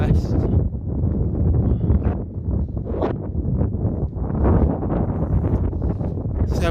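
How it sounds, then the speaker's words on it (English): Strong wind buffets the microphone over a boggy farmer's field on a windy day, a loud, continuous low roar with gusty swells throughout. "hopefully the wind should ease up"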